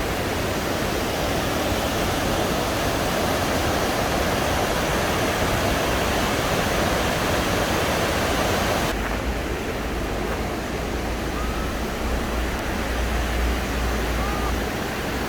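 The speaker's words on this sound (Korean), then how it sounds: "마을 한가운데로 이렇게 많은 물이 흐르고 폭포가 있다는 게 놀랍습니다" A powerful, constant roar of rushing water and a waterfall flowing through the middle of the village of Rastoke, Croatia, loud and unbroken throughout, with the tone shifting slightly midway.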